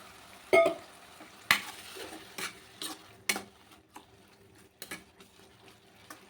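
Intermittent scraping clacks of a spoon stirring kurma masala in a pan, with a soft sizzle of frying underneath; sharp strokes spaced irregularly, close by.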